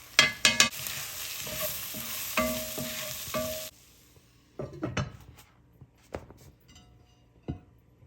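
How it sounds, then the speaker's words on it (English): Onion frying in a pan with turmeric, black pepper, garam masala, cumin, coriander, garlic and ginger for chicken tikka masala, heard as a dense sizzle for the first few seconds, then quieter scrapes and clinks of a utensil against the pan. "we cook the onion with the spices, garlic and ginger"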